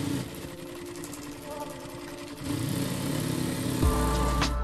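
Sewing machine tacking two fabric pieces of a tool pouch together at the seam allowance, a fast steady mechanical whir that shifts pitch partway through, then a brief thump near the end.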